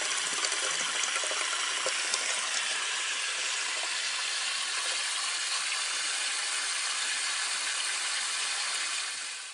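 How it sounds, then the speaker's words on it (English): Steady rushing water from a small garden hose pouring into a catch basin drain, a continuous hiss-like gush that stays even throughout. "from this little garden hose, we're letting the water run in a low spot"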